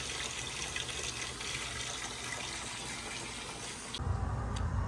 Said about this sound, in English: Laundry tub is draining a little slow.